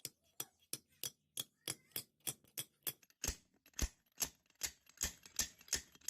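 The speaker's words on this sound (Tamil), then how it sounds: "இப்போ இந்த பேரிங்க கொஞ்சமா தட்டி கீழே தள்ளணும்." A bearing being tapped down into a grinder machine with a piece of iron pipe, a steady run of sharp, close metallic knocks at a quick even rhythm.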